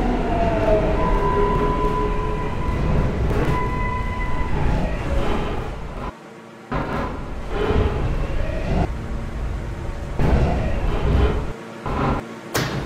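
Subway train running in a video game, with a continuous loud rumble and rolling rail noise throughout, tonal hums and squeals rising and falling, and brief dropouts where the train sound cuts away.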